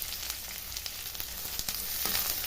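Chopped onion frying in hot mustard oil with whole cumin, a steady crackling sizzle from the pan, close and even throughout with no talking.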